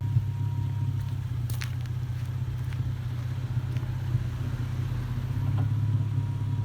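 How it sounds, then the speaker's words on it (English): A low steady exhaust rumble from an Infiniti G35 sports car idles from behind, an even deep drone that swells slightly toward the end, with no talking. "I'm gonna give y'all some back views of the back so they give y'all some more exhaust clips."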